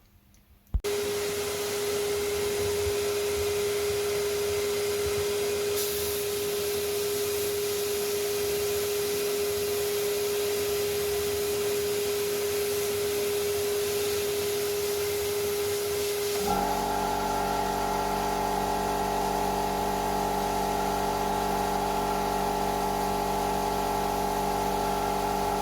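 A small air compressor drives a blaster cleaning Kawasaki Z750 Twin motorcycle parts, giving a steady, close hissing rush that runs unbroken. Partway through it shifts to a deeper tone with a humming drone.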